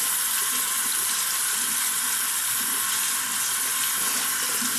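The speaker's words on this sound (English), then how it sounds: "Okay, I'm going to turn the water up just a little bit and get it rinsed out." A kitchen or bathroom tap, turned up a little, pours water over makeup brushes being rinsed out; a loud, steady, close rushing stream fills the whole stretch.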